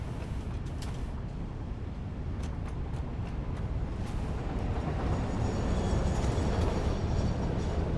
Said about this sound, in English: Where is this train gone?